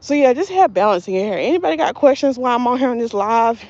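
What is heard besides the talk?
None of the usual background noises is heard.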